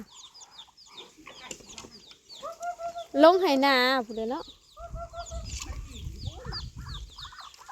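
Farmyard chickens clucking, with a rooster-like call rising in the middle, close by at a rice-field farm that also keeps ducks, while someone talks over and between the bird sounds.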